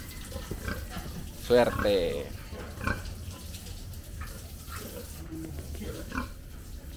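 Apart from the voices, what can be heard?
pigs on a farm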